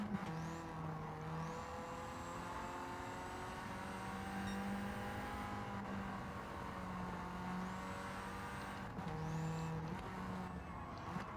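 A Daihatsu Copen racing at Willow Springs in Gran Turismo 7 holds a continuous engine drone that rises and falls with gear changes, with brief tire squeals over a steady mid-volume run.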